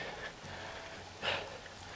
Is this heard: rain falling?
yes